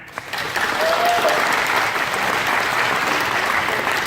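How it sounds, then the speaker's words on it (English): An audience breaks into sustained applause at a presentation, clapping as a vote, dense and steady with no talk over it after a sharp start. "we want you to clap right now"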